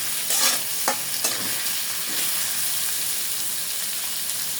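Onions crackle and hiss steadily as they fry in oil until reddish, for a Padma river bhapa ilish recipe, a close, continuous sizzle marked by a few brief stirring clicks.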